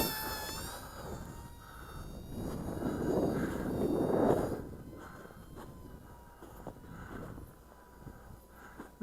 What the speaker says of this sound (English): I'm just gonna give it throttle here